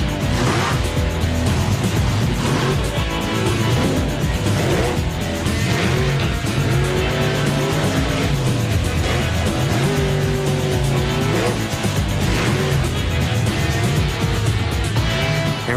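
Bigfoot monster truck engine roars loud and steady through a freestyle run in an arena, revving hard with tire noise and crowd din throughout.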